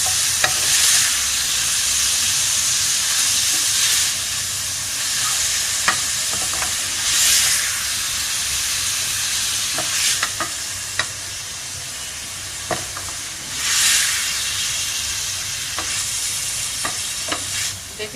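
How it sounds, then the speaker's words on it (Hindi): Minced beef sizzles steadily in a pan on the stove, with a constant frying hiss broken by louder scrapes and clatters as the meat is stirred at irregular intervals, and no voices. "अब हमें कीमे को इतना कुक करना है कि इसका कलर चेंज हो जाए।"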